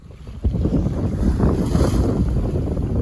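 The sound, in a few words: wind while sailing a sailboat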